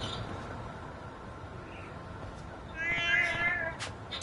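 A cat in the video game Lost Judgment gives a soft meow over low game ambience, followed by a louder, higher mew later on, with no talking.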